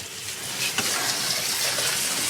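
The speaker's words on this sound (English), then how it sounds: "I'm going to rinse that, like I said, just to take the excess salt, just with cold water." Cold tap water runs steadily over drained salsa ingredients sitting in a colander, a continuous close splashing gush with no talking.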